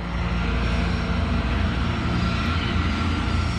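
Boeing 747 jet taxiing in a documentary reconstruction of the Tenerife runway collision, a loud, continuous engine roar with steady low rumble and whine, no voices.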